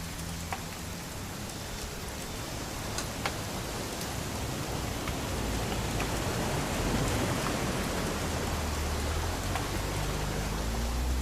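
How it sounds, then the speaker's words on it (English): Steady rain in a video game falls continuously, a dense hiss of drops with a few louder patters, no voices, holding at an even level throughout. "It's gonna rain the whole weekend"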